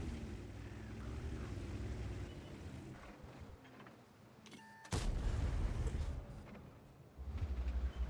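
A tank cannon fires in a tank battle video game: one sudden, loud boom cuts through a low engine rumble midway, and the rumble carries on afterward.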